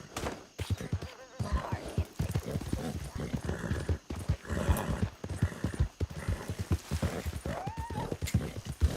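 Rhythmic hoofbeats clip-clop along with a horse whinnying in The Outpost video game, set among game background sounds and a voice talking over it.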